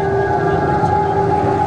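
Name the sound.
ambulance siren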